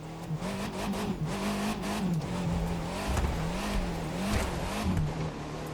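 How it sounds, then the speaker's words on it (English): Engine roar and tire noise from a yellow monster truck doing donuts in mud in the Hot Wheels Monster Jam video game, a steady, wavering motor drone with revving swells throughout, loud and close with no talk. "The yellow car monster truck can do some of the best donuts in the mud that I've ever seen"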